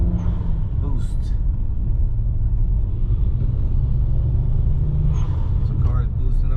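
A BMW with an N54 engine converted to a single turbo, running under boost as a deep continuous rumble heard from inside the car, with faint squeaks and someone talking over it.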